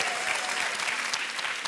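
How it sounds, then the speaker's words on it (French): Studio audience applauding on a French-language television dating show, a brief, steady burst of crowd clapping that fills the space evenly and is fairly loud. "On vous applaudit, merci d'être là et bienvenue à Laurent et Cassandra."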